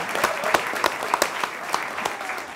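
Studio audience applause fills the opening of a live rhyming game show, a steady wash of clapping with sharp individual claps popping out, continuous and fairly loud.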